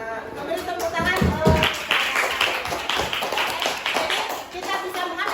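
A small group claps hands in a classroom lesson, uneven bursts of clapping with a few louder hits early on, mixed with voices talking over it throughout.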